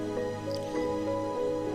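Oil poured onto potatoes coated in ground spices in a wok, a short close wet drip and squish lasting under two seconds with no talking.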